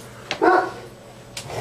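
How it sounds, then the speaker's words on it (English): A dog barks nearby in short, loud yips, first a sharp pair and then one more bark about a second later. "Crazy dog."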